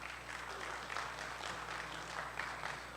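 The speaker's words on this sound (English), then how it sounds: "Let's give them a round of applause." Audience applause at a 2021 senior commencement ceremony, heard as faint, steady, distant clapping from a crowd with no voices.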